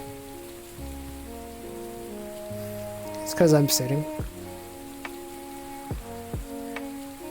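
Steady rain falls in a VR fishing video game, a soft continuous patter heard while sitting in a boat. Someone talks briefly over it, with a few short game tones.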